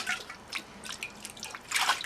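Water sloshes and splashes inside a dirty glass sprouting jar used for fenugreek sprouts as it is rinsed, heard as a few short, fairly quiet bursts close by, with no talking.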